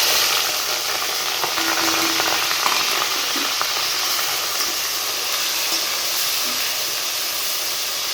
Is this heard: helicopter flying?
no